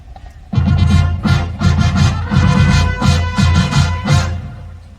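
A marching band plays a short, two-measure show version of Mars, full brass and percussion entering loudly with accented, punchy hits in a driving rhythm.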